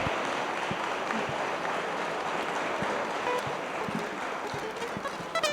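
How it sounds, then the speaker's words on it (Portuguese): Audience applause at a book launch ceremony honoring author Geraldo Ferreira, a steady, dense wash of clapping held at an even level throughout, with scattered louder individual claps and faint voices in the background. "Geraldo merece o nosso aplauso"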